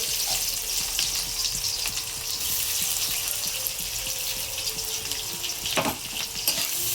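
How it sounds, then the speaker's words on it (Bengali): Onions fry in hot oil for a curry with whole garam masala and bay leaves, giving a loud, continuous crackling sizzle close by, with occasional stirring scrapes and no talking. "পেঁয়াজগুলো একটু লাল লাল করে ভেজে নিই।"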